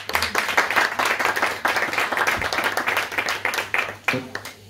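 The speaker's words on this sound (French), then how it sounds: "Merci Dominique, on peut l'applaudir" Audience members at a literary conference applaud Dominique with a modest, uneven patter of individual claps, sparser than a full ovation and close to the microphone, with brief voices surfacing near the end.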